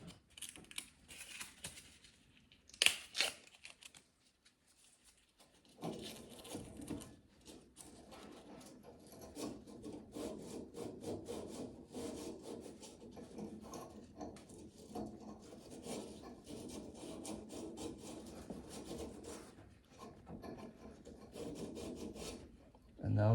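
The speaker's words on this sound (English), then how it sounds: "And then I use the sandpaper to rub a little bit." Sandpaper rubs the pilot spark electrode and blade of a gas fireplace pilot assembly, a steady close rasping scrape that runs continuously after a brief pause and a few sharp knocks near the start.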